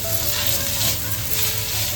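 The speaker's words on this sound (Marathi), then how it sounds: "तर बघता आपला कांदा टमाटर चांगली परतून झालेला आहे" Onion and tomato sauté in a pan, giving a dense, continuous sizzle with soft stirring motion throughout, close and steady in loudness.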